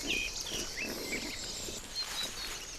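Wild pigs, a sow with her piglets, give faint, distant grunts and thin high squeals over a soft natural background, with no voices.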